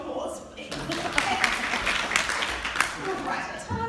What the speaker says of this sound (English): Can I have some applause, please?